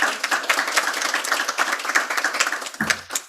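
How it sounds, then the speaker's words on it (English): A round of applause fills a school district board of education meeting, dense steady clapping from a room of people that tapers off near the end. "One last round of applause"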